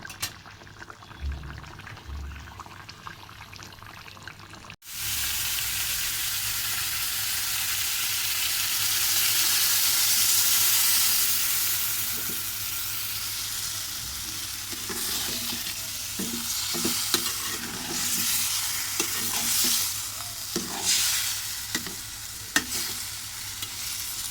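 Shrimp and mango fry in a pan with steady stirring, a loud continuous sizzle starting abruptly after a quiet opening, with scraping and clinks of the spoon scattered through the later part.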